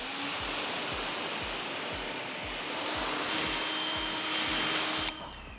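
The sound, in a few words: water rinsing foam cleaner off a car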